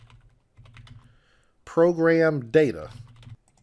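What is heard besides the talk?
typing on a computer keyboard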